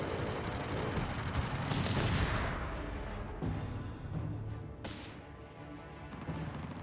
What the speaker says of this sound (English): we get butterfly bombs here from Havoc